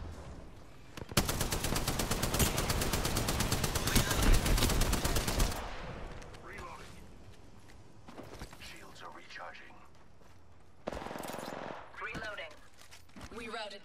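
Automatic weapon fire in Apex Legends, a loud sustained burst of rapid shots lasting several seconds, then sporadic shots, scattered impacts and brief voice lines over quieter game ambience.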